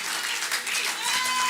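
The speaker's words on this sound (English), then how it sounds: "Let's give a wonderful hand of applause to Jesus." Steady applause from a church congregation, a dense wash of clapping that holds at an even level throughout with no voices standing out.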